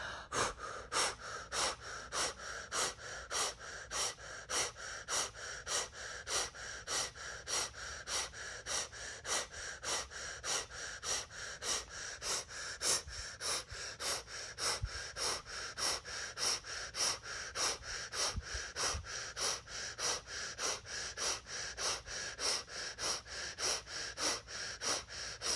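Slow, rhythmic deep breathing close to the mic, each breath drawn in and then blown out in a long, steady exhale, repeating evenly with no talking.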